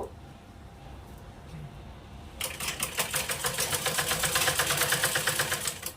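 A sewing machine stitches a lungi, starting after a quiet stretch and running as a fast, close, rhythmic mechanical chatter for the last few seconds, with no talk.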